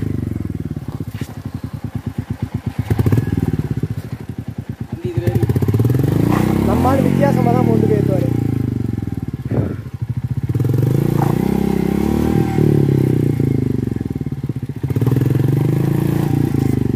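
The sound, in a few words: off-road vehicle revving uphill, wheel spinning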